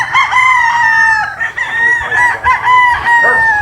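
A gamefowl broodstag crows loudly and close by, one long drawn-out cock-a-doodle-doo with a harsh, strained tone, heard on its own without speech.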